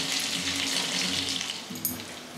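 Pointed gourds (parwal) fry in a pan with a dense, even sizzle and fine crackling throughout, close up and steady, with a faint low hum beneath and no talking.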